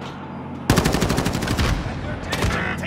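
Rapid automatic gunfire in Call of Duty multiplayer, a loud close burst of fast rattling shots that starts abruptly, pauses briefly and resumes, with a voice shouting alongside.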